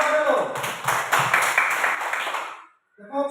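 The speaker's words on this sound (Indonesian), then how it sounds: "tepuk tangan untuk kelompok dulu" Primary-school classroom applause for a student group: a burst of many hands clapping together, loud and close, that swells and then stops abruptly. A voice briefly follows after the clapping ends.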